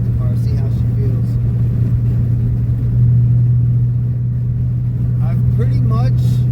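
A Ford Mustang GT's steady low engine drone rumbles through turns from inside the car, while someone talks over it throughout.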